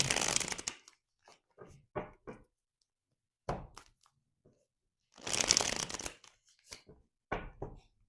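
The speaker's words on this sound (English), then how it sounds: "The Devil card wanted to come out while I was shuffling." Tarot cards are shuffled in close, crisp bursts, several riffling runs separated by short pauses and soft thumps of the deck, with no talking.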